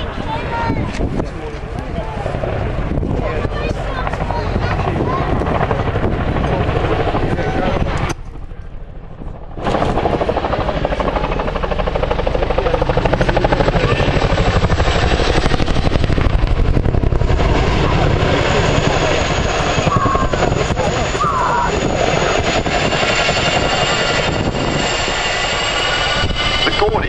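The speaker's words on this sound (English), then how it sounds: "It's the loudest helicopter in the world." A Chinook twin-rotor helicopter roars close by at an airshow with steady, powerful rotor thumping and a brief dip near the start, with a voice talking over it.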